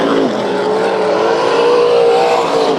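Super stock race cars at Bakersfield Speedway during a Saturday heat race, a loud, sustained engine roar with a steady rising whine from a car close by.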